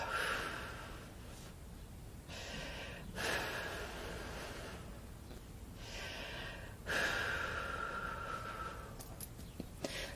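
Slow, deep breaths drawn in and released audibly during a summer solstice ceremony, several long inhales and exhales in a steady rhythm, close and soft.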